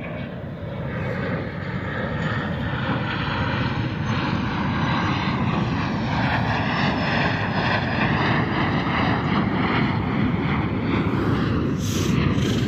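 Steady, loud aircraft engine roar, consistent with a jet, holding throughout with a slowly shifting whine and no speech over it.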